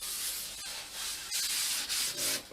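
Sandpaper rubs in long, steady strokes over the primed underside of an L39 RC plane wing, a close, continuous hiss broken by brief pauses between passes.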